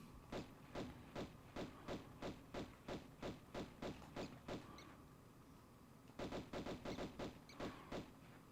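Gunfire in Tomb Raider I Remastered as bats are shot down, a steady rapid run of sharp evenly spaced shots, a short pause, then another quick burst, loud and close with no talk.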